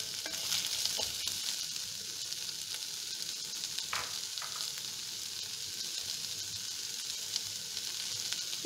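A chilli beef mixture fries in a pan while being stirred, a steady close sizzle with occasional scraping of the spoon, no voices.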